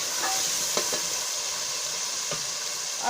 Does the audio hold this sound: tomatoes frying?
yes